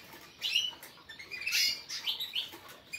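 Young caged birds give a few short, thin chirps and make light rustling movements, all faint and close, with no one speaking.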